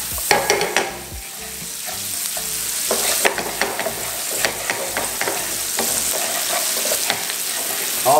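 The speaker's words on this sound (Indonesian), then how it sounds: "Gue masukin ininya dulu nih, bawang bombaynya ya. Kita tumis dulu sampai wangi." Chopped onions sautéing in a hot pan for chicken croquettes: a steady, close sizzle runs throughout, broken by sharp scraping clatters of stirring, with no one talking.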